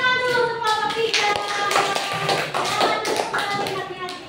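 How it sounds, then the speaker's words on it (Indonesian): A primary school class claps for a group of classmates in a classroom, bright rapid hand taps close by with some voices mixed in. "beri tepuk tangan dulu untuk kelompok 3"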